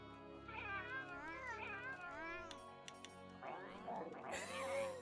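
A palico cat in Monster Hunter World lets out a string of wavering, drawn-out meows, close and clear, followed by a brief burst of a person talking.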